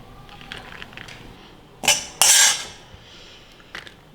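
A metal ladle scrapes and clanks against a pan while egg rice is served, two loud close scraping bursts in the middle and a few lighter clinks around them, with no talking.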